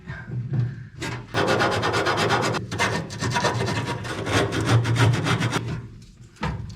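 Metal parts are rubbed clean during a two-speed 12-volt wiper conversion on a lead sled hot rod, producing close, rapid rasping strokes in long runs broken by brief pauses. There are no voices.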